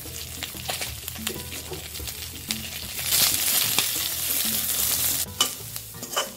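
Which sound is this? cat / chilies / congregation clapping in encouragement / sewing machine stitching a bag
chilies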